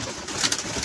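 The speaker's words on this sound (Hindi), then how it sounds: "आज कबूतर सुबह सुबह खुशी में उड़े हैं" Pigeons outdoors in the early morning, a soft coo with faint rustling and a brief flutter of wings as they lift off, quiet and fairly close, with no talking.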